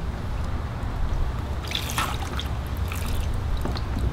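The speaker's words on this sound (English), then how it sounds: "Nice little spray of water." A small pump-driven bubbler water feature in a pot sprays and splashes continuously, with a steady close trickle and a few brighter droplet splashes, no talking.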